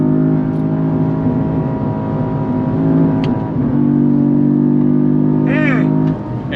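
Cadillac CT4-V Blackwing sedan engine revving hard up to redline, a loud, close, sustained roar that holds steady, then drops off abruptly near the end with a brief whine.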